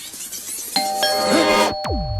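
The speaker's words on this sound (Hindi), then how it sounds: "जब भी ये घंटी बजती है कोई ना कोई मुसीबत जरूर आती है।" An electronic doorbell chimes with two quick ding tones that ring out and sustain, followed by a falling, swooping tone as the chime ends.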